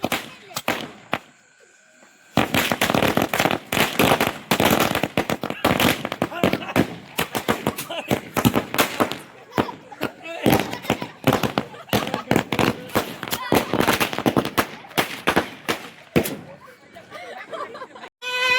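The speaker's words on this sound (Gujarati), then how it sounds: "તમે જોઈ શકો છો અમે કેવા ફટાકડા ફોડાવી" Rapid bursts of Diwali firecrackers crackle and pop loudly for most of the stretch, sharp overlapping bangs with brief gaps, voices shouting faintly underneath.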